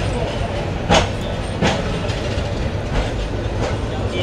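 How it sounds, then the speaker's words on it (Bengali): Jayantika Express running from Dhaka toward Sylhet past small Montola station, heard from inside as a steady close rumble of wheels with repeated rhythmic clacks at the rail joints. "এই যে আমাদের ট্রেন এখন মনতলা রেল স্টেশন সাইডে চলে যাচ্ছে"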